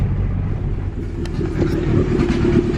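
An Acura Integra with a turbocharged B20V engine that has a misfiring cylinder, heard from inside the car while driving: a steady, loud low rumble of engine and road noise with a slight rise in revs, and no talking.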